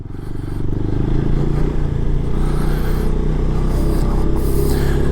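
A motorcycle engine churns loudly and steadily at low revs while turning in deep soft sand, with rough rumbling and clatter as it labors, close up.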